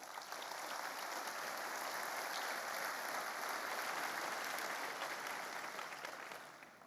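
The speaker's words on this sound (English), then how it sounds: "Let's give them a round of applause." An audience at the Nvidia GPU Technology Conference 2017 keynote gives sustained applause, a dense, even clapping from a large hall crowd that holds steady for several seconds and then tapers off.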